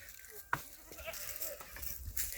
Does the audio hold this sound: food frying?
no